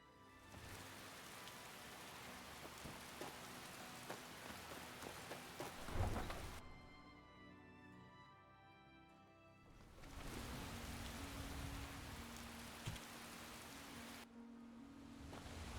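Steady rain pours in the Skyblivion video game, with deep rumbles of thunder rolling through. The downpour briefly drops away before returning heavier.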